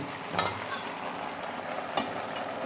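Mixed winter vegetables for a labra curry being stirred in a pan, a steady soft sizzle beneath two distinct scraping stirs of the spoon, close by and without voices.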